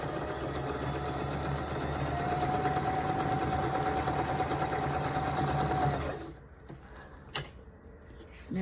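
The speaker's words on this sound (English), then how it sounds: "we're going to sew them together like this" Sewing machine running steadily for about six seconds while stitching half-square triangle quilt pieces, a constant mechanical whir that then stops, leaving faint handling noises and a couple of small clicks.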